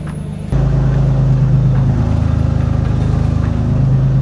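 A Nissan 350Z drift car fitted with a full angle kit roars close by, its engine rumbling loud and steady after a sudden start, revving and droning with no talk.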